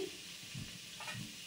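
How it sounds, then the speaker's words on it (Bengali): Fried vegetables reheat in a wok, giving a soft, even sizzle with a couple of faint stirring scrapes. The sound is low and close, with no talking. "তরকারিগুলো মানে ভাজাটা একটু গরম করে নিচ্ছি, কড়াতেই ছিল"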